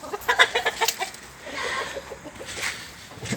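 Backyard flock of year-old hens and a one-year-old rooster clucking in a run of short, uneven bursts, close and moderately loud, with a steadier stretch of clucking in the middle.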